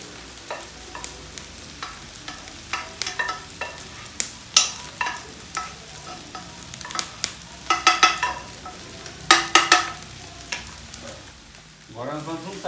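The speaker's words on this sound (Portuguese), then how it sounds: "Tá mexendo devagarzinho com o auxílio de outra colher" A spoon scrapes and stirs rice carreteiro in an iron pot over a wood-fired stove, irregular clinks and scrapes over a soft sizzle, close and fairly loud, with no talking.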